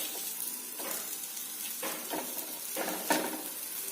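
Bottle gourd dhapata, a thin flatbread, is flipped on a hot tava and sizzles steadily up close, with a few brief scraping sounds from the turner.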